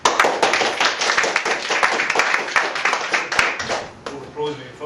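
Audience clapping at a Neuro-Linguistic Programming talk fills the room before the guest speaker begins, with dense scattered hand claps that thin out near the end, mixed with talk.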